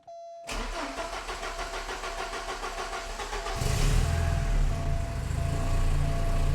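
A Porsche 944 engine with an empty fuel rail cranks with a rhythmic, pulsing starter churn for about three seconds, then catches and fires into a louder, rough running idle close by.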